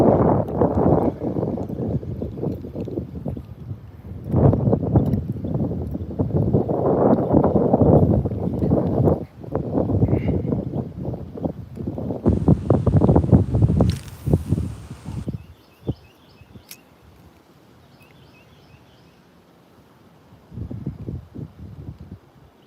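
Gusty wind buffets the microphone on a fishing boat off North Carolina, loud rumbling bursts rising and falling, with a brief high electronic tone in the middle and quieter stretches toward the end.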